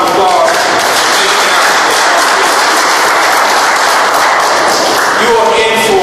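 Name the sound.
audience applause at town hall meeting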